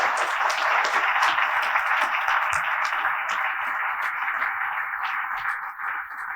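Steady applause from a dinner audience at a chamber of commerce event, a dense, even patter of many hands held at moderate volume for several seconds, easing slightly toward the end, with no voices over it.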